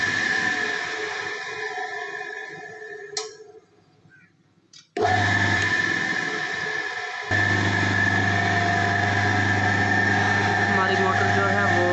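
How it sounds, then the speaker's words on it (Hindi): A 2HP electric motor switched on and running on current, starting abruptly after a brief quiet pause and then holding a loud, steady hum with a strong low drone to the end. "अभी हम इसे करंट दे के चेक करते हैं कि हमारा मोटर कितने एम्पेयर ले रहा है"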